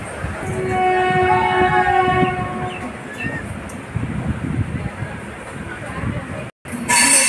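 A train between Kolkata and Balasore rumbles along steadily with a long horn sounding over the noise, heard from inside or close by, then a brief cutoff.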